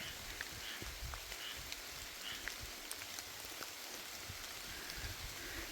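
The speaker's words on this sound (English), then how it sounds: "It's also raining, which is a good thing." Steady rain patters down continuously, a soft even hiss dotted with individual drops striking nearby surfaces, with no voices.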